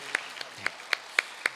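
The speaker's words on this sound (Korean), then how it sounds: "하나님께 영광의 박수 올려드리도록 하겠습니다" At a Korean church's Wednesday morning service, a few sharp, separate hand claps ring out in a loose steady rhythm, about six distinct claps, near and crisp over a quiet room.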